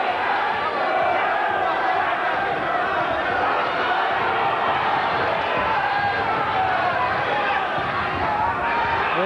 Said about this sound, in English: the crowd spurring them on